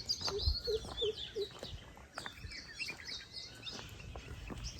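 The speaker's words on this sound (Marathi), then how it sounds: "पक्ष्यांचा आवाज ऐका तुम्ही" Birds chirp and call in short bursts, with a few lower clucking notes early on, over a steady outdoor background at Sajjangad Fort.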